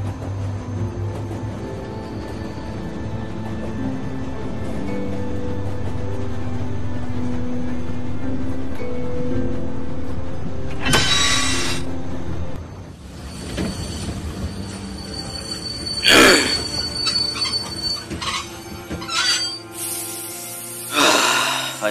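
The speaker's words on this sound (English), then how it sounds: "Stop the train, man." A train in The Walking Dead video game rumbles along and then brakes, its wheels letting out long, loud metallic squeals in several bursts as it slows. The sound is close and rolling, and no one speaks.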